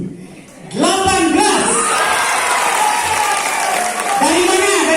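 A large audience at a comedy judging event bursts into loud, sustained applause mixed with cheering and shouting voices that swell quickly and hold steady for several seconds.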